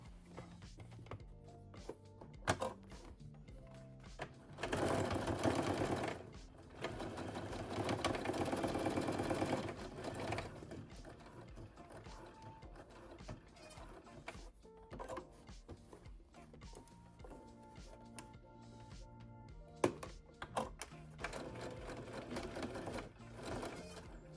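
A sewing machine stitches denim for a jacket in bursts of rapid mechanical whirring, separated by quieter pauses with light clicks and handling of fabric, heard close and fairly quiet.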